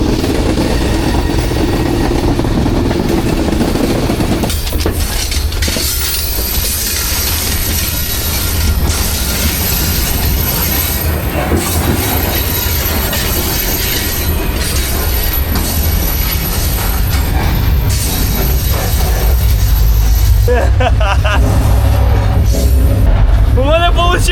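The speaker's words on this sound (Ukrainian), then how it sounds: "Я запрыгну на свій перший поїзд в житті!" A freight train rolls past loud and close for the whole stretch, heavy wheel rumble and rail clatter with squealing metal and intermittent screeches, a person's voice faintly under the noise.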